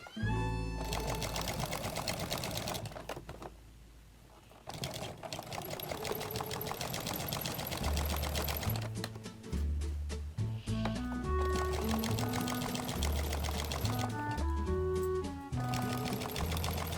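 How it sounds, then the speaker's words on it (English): Sewing machine fitted with a walking foot stitching knit fabric for a milkmaid top, running in steady bursts of rapid mechanical clatter with brief pauses between seams, close and fairly loud. "a walking foot really helps when using knit fabric so it doesn't shift and turn as you're trying to guide it underneath your machine"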